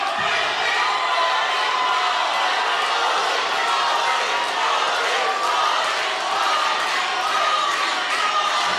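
A wrestling event's arena crowd cheers and shouts loudly and steadily throughout, a dense roar of many voices filling the space without pause.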